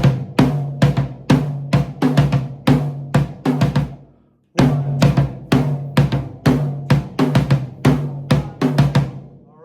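A close, loud drum kit plays a song intro, a bar of 4/4 then a bar of 6/4, with fast hard-hit drum and cymbal strokes, a short silent break midway, then the pattern again.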